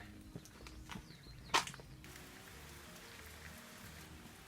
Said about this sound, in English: it's raining pretty heavy outside